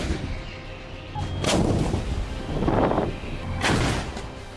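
Artillery fire from a US Scorpio extended-range projectile test, several heavy booming reports spaced about a second apart, each swelling and fading, with no talk.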